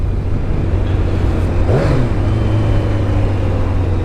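Kawasaki ZZR1100 motorcycle, a 1997 D5, idling with a steady low engine drone that briefly rises in a short rev before settling back, heard close and alone.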